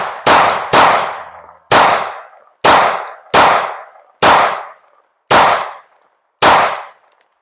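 A Glock 19 9mm pistol fitted with a Leo Precision Oden slide fires eight loud, sharp shots close by, spaced unevenly at about one-second intervals, each crack ringing briefly before the next.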